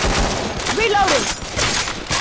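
Rapid bursts of gunfire from the Left 4 Dead 2 zombie shooter crackle loudly and nearly continuously, with a player's voice briefly cutting through the shots.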